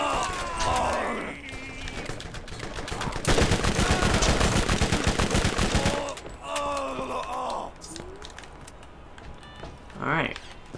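Rapid automatic gunfire erupts in a Borderlands firefight, a dense burst of shots lasting several seconds amid other weapon bursts and game effects, with excited voices talking over the action.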